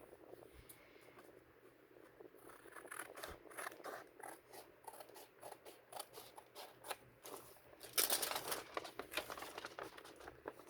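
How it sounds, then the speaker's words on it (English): Scissors cutting paper for a junk journal, a run of quiet close snips and crisp paper rustles in an irregular rhythm, with a louder burst of crinkling near the end and no talk. "I think I will just go ahead and cut it."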